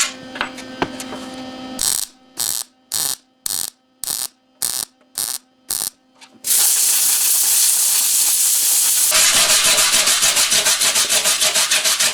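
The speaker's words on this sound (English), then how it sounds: "Well, I could certainly do a little bit better job of welding." Arc welding steel braces on a 1948 Silver King Model 42 tractor, starting with a loud hum, then a run of short rhythmic crackling bursts, then a long continuous sizzling hiss.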